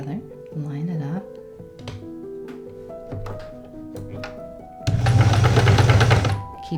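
A sewing machine stitches pastel quilt pieces in a short, buzzing run of about a second and a half, following a stretch where a person talks over light tapping and handling noises.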